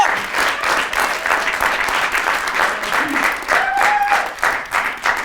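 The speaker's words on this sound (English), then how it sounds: "All right, another round of applause for the second round." An audience applauds at a student poetry recitation competition, giving a full round of clapping that swells and dips, with a brief whistle or cheer partway through.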